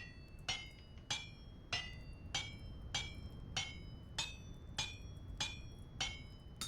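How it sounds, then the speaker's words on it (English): A hammer strikes hot iron on an anvil in the Vintage Story game smithy, eleven sharp ringing metallic blows at a steady, even rhythm, each clear and close with a brief ring after it. "put borax on top, grab the top, put the top on, and smack it with the hammer"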